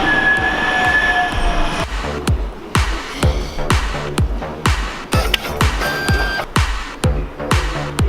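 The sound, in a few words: tram running at Sale, Manchester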